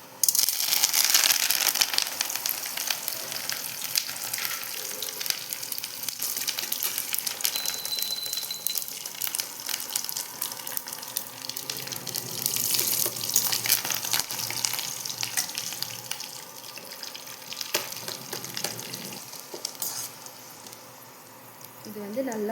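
Chana dal, mustard seeds and curry leaves frying in hot oil for mango rice, a dense steady sizzle with crackling pops throughout, close and loud, with occasional stirring.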